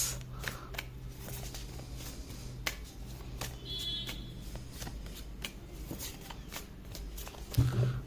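Tarot cards are shuffled by hand, giving a series of quick, close riffling and snapping card sounds over a quiet room hum, with a few faint murmurs in the background.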